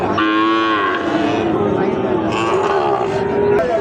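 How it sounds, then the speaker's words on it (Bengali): A Sahiwal bull calf at a cattle market gives long, loud, close moos, with a drawn-out call followed by a second lowing. "দেখছি বেশ সুন্দর সুন্দর শাইওয়াল জাতের ষাঁড় বাছুর আমদানি হয়েছে এই হাটে"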